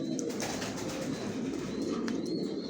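Giribaz pigeons coo softly and continuously in a loft, a low, muffled, faint murmur with a few faint higher chirps and no talking.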